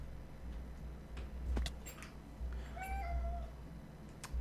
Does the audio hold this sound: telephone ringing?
no